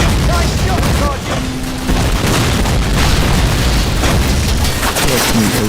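Explosions and bursts of gunfire in the Call of Duty video game, loud and continuous booms throughout with voices talking over the battle.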